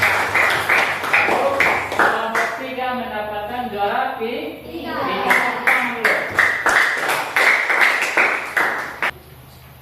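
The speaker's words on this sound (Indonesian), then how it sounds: "tepuk tangan kelompok 4" Classroom group clapping in rhythmic bursts, with one classmate's group cheered in turn, under and between a teacher's speech, with voices talking throughout.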